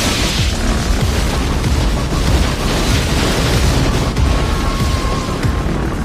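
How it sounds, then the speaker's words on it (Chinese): A building is blown apart by an alien spaceship's energy beam in the film Independence Day: a loud, sustained roaring blast with deep rumbling that fills the whole stretch without letup and with no voices. "紧接着一道亮光射出，整栋大厦竟在瞬间被炸成了灰烬"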